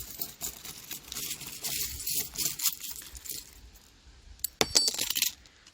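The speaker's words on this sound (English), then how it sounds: "next, I'm going to pull some charms from my little bag" Small metal tarot charms clink and jingle as they are pulled from a little bag, in scattered light taps with a sharper cluster of clinks near the end, close and fairly quiet.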